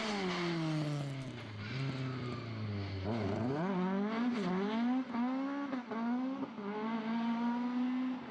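Blue Ford Escort Mark II racing up a hillclimb course, its engine loud and close, revving hard through rising and falling gear changes with rasping harmonics and no voices.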